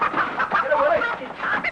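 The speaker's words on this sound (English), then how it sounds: "Get that chicken out of here." Chicken clucking and squawking in an indoor scramble to catch the bird, with excited voices talking and shouting over it throughout.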